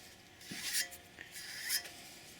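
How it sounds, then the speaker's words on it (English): Pine being grooved by hand with a dovetail saw, giving two short raspy bursts of fine teeth rubbing through the wood, fairly quiet and close. "I'm going to saw this side of where the groove is going to be."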